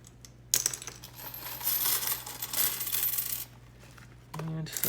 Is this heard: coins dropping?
yes